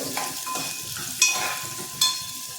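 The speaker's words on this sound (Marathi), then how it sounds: "मी कांदा आणि कढीपत्ता घालते" Onion and curry leaves frying in a pan for cabbage bhaji, a steady close sizzle with light stirring scrapes and two sharper crackling bursts.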